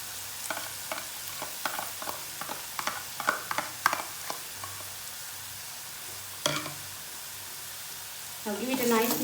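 Soya sauce and tomato sauce sizzling and being stirred in a pan for idli Manchurian, with scattered spatula scrapes and clicks over a soft frying hiss, and a brief louder clatter near the end.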